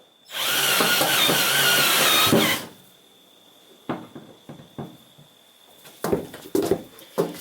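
A power drill boring through the metal floor of a van whines loudly for about two seconds, then stops, followed by several clunks and knocks of handling.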